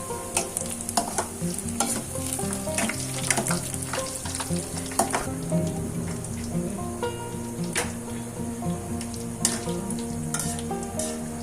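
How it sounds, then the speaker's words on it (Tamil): Bread pieces fry in a pan until brown, a constant close-up sizzle of hot oil with frequent stirring clicks and scrapes, loud and busy throughout with no talking. "கொஞ்சம் ப்ரௌன் கலராக வரணும், அது வரைக்கும் ஃப்ரை பண்ணி."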